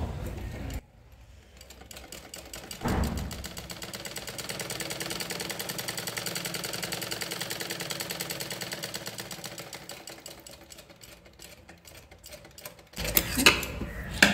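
A sewing machine running a straight stitch in a tailoring class, giving a steady rapid mechanical whir and clatter for about ten seconds, with brief handling noises before and after.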